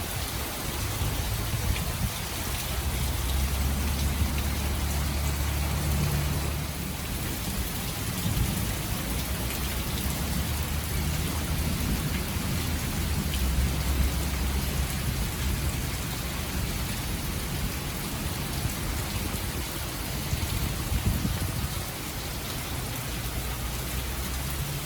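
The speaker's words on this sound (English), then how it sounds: "Every time these rains come through, I get scared" Steady heavy rain falls during a thunderstorm, a dense continuous hiss with low rolling thunder rumbling underneath through most of the stretch, with no voices.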